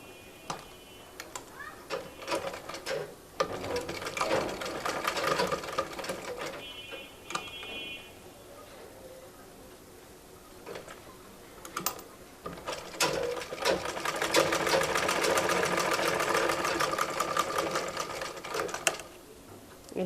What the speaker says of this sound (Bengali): নেওয়ার পর এই সাইড থেকে আমি সেলাইটা করব।